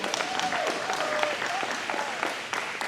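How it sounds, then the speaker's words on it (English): Audience clapping for Sergio at a 2021 campaign watch party, a full, continuous patter of many hands with a faint tonal sweep drifting through it. "Let's give Sergio a round of applause."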